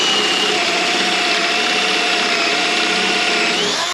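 Power drill with a Mastercraft fastener bit boring into wood, a loud, continuous high whine with grinding texture that holds steady for about four seconds and then cuts off, close and alone.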